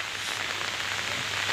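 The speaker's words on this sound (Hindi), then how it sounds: "पूरा पूरा बहुत परिमाण रे वर्षा होची" Heavy rain pours steadily onto a village road, a dense, even hiss of drops close by with no voices.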